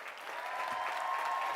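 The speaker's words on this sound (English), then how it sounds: "Can we please give her and all of our families a round of applause?" A brief, full burst of crowd applause at a university commencement ceremony, many hands clapping together at a steady level, with a faint sustained tone running beneath it.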